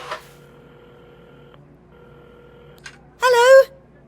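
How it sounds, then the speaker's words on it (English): Electronic phone tones from a video game telephone sound in short steady beeps, followed by a brief burst of a warbling ring tone; no voices. "Carmen had started dialing the phone"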